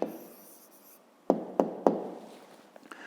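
The answer to a fifth-grade arithmetic exercise is written by hand on paper, an early scratchy stroke followed by three crisp taps in quick succession and a few softer marks, close and quiet.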